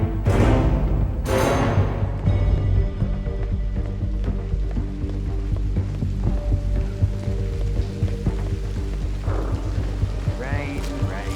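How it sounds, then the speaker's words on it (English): Steady rain falling in Hitman 3 gameplay, a continuous wash of drops over a low rumbling game soundscape, with brief swelling tones near the start and end and no talk. "Rain, rain, nothing but rain."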